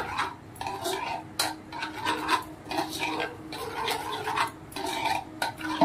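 Salted raw chicken being mixed by hand in a bowl, giving a steady wet squelching and rubbing with repeated sharp scraping bursts, close and fairly loud with no talk.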